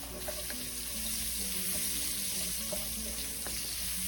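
Beef cooking in a pan for a green bean stir-fry: a steady, faint sizzle and hiss with scattered small pops throughout, no voices.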